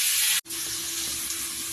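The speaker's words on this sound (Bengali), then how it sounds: "আলুটা ভাজা হচ্ছে" Potatoes frying with salt and turmeric in a pan for a potato curry, a steady bright sizzle that cuts out for an instant and then resumes, close and constant.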